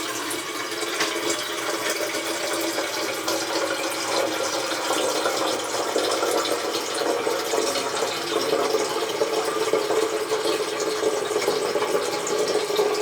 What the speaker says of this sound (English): we want to put some fresh water in it.